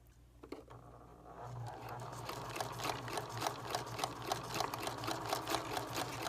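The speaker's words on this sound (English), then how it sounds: "So I just do the zigzag stitch." A sewing machine runs a zigzag stitch back and forth across fabric, its needle hammering in a quick steady patter that starts after a brief quiet moment and continues close and clear.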